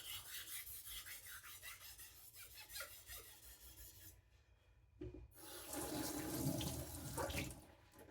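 A knife is stroked across an Atoma diamond sharpening plate wet with soapy water, giving faint repeated rasping scrapes, a short near-silent pause, then louder, harsher grinding strokes.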